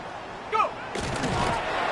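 Stadium cannons fire at the Buccaneers' home field in Tampa during a football video game: a short tonal blast, then a sustained broad booming rumble with crowd-like noise.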